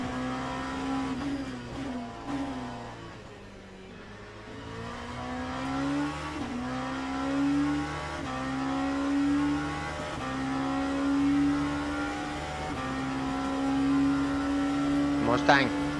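Daytona P2 race car engine lapping Fuji in a racing video game, a sustained high whine rising and falling through gear changes, with a brief sharper burst near the end, no voices.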